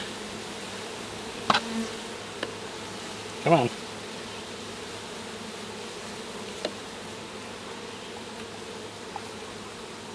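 Honey bees buzz during a hive inspection while a hive is being split: a steady, faint hum with a few brief, louder buzzes as bees fly close, and a short spoken phrase near the start.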